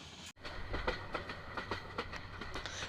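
Teesta Express passenger train running past Mymensingh Agricultural University, a steady rumble with rhythmic clickety-clack of wheels over rail joints, continuous and fairly close, with no voices.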